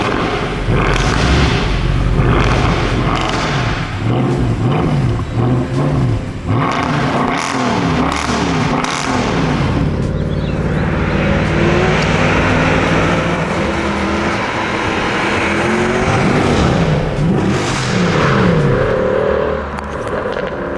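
A 2013 Mercedes-AMG C63 507 driving on a road, its engine loud and close, rising and falling through repeated revs and gear changes with a deep, rumbling roar and brief burbles between pulls.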